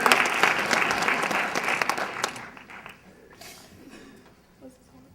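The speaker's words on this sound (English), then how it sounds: "Give him a round of applause for carrying that box" An audience applauds in a loud burst of dense clapping that fades over a few seconds into scattered claps, with faint voices underneath as it dies away.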